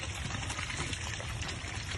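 Water gushes steadily and strongly from a newly installed faucet in a family's home, a continuous rushing pour with no voices.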